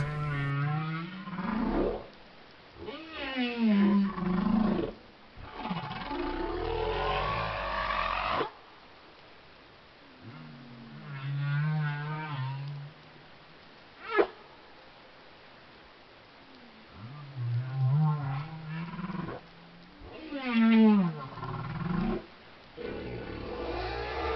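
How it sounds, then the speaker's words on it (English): Deep, moaning humpback whale calls underwater in the ocean, with rising and falling tones, several long sweeping cries separated by short quiet gaps. "megaptera, which is the other name of the humpback whales, this sound is produced by the transfer of air"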